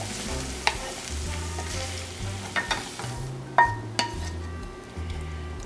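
Browned ground beef being stirred into sloppy joe sauce in a pan, a soft continuous sizzle broken by a few sharp clinks and scrapes of the spoon against the pan, with no talking.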